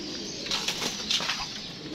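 Pigeons of a black-coloured home breed flap their wings in a few quick, soft bursts, fluttering close by against a quiet background with no talking.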